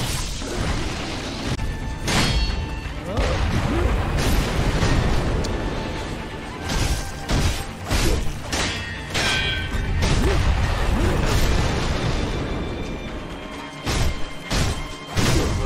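Loud booming blasts and crashing impacts in quick succession, heavy cannon fire in the video game Sekiro: Shadows Die Twice, with dense noisy bursts throughout.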